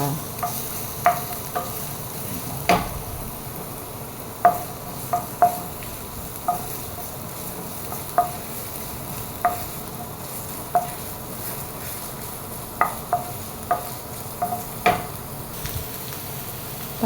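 Ginger frying in oil in a pan, a steady close sizzle with light periodic scraping and stirring taps throughout.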